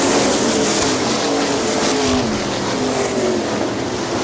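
410 sprint cars roar around the dirt oval at Hartford Speedway Park in Michigan, a continuous loud engine drone with rising and falling pitch as several cars run wheel to wheel.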